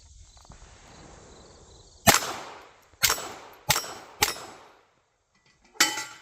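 Taurus TX22 pistol shots ringing off steel targets at a range: five sharp cracks with bright metallic clangs, spaced about a second apart, with a brief pause before the last. Each clang fades quickly into quiet.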